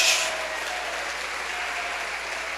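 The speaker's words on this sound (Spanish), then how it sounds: "Aplauda la gloria de Dios" A church congregation applauding together, a dense, steady wash of clapping that stays loud and even from start to finish, with no voices over it.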